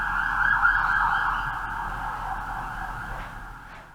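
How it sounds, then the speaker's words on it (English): A steady, wailing siren sounds continuously, fairly loud and close, holding a constant pitch with faint background rumble. "More sirens."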